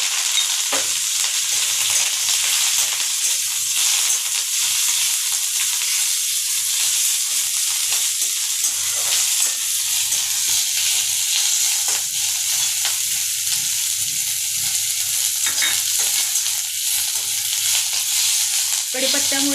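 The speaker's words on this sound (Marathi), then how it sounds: "आता मी तेलामध्ये कढीपत्ता भाजून घेत आहे।" Curry leaves crackling in hot oil, a continuous loud, dense sizzle and hiss that runs unbroken close up, with occasional faint stirring and no speech.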